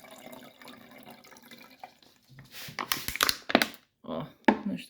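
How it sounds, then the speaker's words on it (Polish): Water poured onto lemon geranium cuttings, starting with faint background noise, then a few loud close splashes and gurgling pours in uneven bursts, with some talking mixed in. "Doleję trochę wody"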